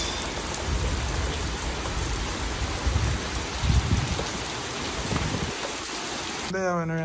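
Steady rain falls continuously, a dense wash of drops pattering on surfaces, with a brief birdlike chirp near the end.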